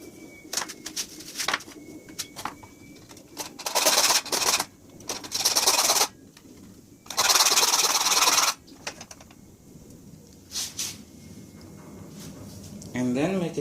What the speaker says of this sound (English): we need to cut this nail using a hacksaw